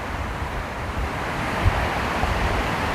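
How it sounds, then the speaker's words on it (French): Ocean waves surge steadily on a gusty shore while wind buffets the microphone, forming a dense, loud, continuous roar with no voices. "Il y a des bonnes vagues. Des bonnes vagues. Des bons coups de vent."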